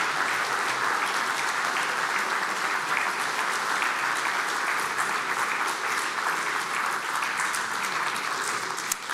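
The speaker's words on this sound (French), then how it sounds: "Applaudissements encore." An audience at an evening conference on risk culture breaks into sustained applause, a dense, steady clapping that continues at an even level for about nine seconds.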